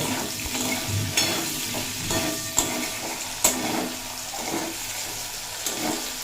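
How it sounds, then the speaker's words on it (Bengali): Okra (bhindi) frying in mustard oil with turmeric and salt, giving a steady close sizzle with occasional sharp clinks and scrapes of stirring. "ভেন্ডিগুলো খুব ভালোভাবে ভাজা হয়ে গেছে"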